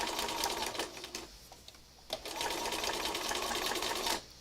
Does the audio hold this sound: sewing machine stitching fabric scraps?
yes